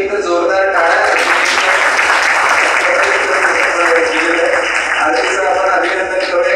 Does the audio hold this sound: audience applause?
yes